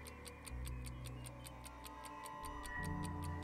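Alarm clock ticking in the video game Sir, You Are Being Hunted: steady rapid ticks at an even rhythm over a low ambient game drone, fairly faint, with no talking.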